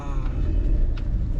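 Car driving through the narrow lanes of Nabadwip, a steady close engine rumble from inside the vehicle with faint higher noises in the background.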